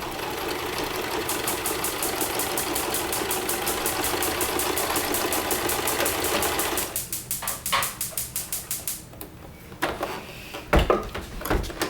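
A sewing machine stitches across purse fabric in a steady, loud, rapid run for about seven seconds, then breaks into short stop-start bursts with small clicks.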